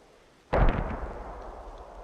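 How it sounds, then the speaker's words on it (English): A single heavy mortar round going off in the World War II shooter Post Scriptum, a sudden loud boom that decays into a long rumbling tail, with no talk over it. "one of those mortar sets is so bad. Who's firing that?"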